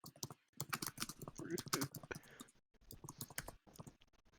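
Rapid clacking of computer keyboard typing, close and bursty, with short pauses between flurries of keystrokes.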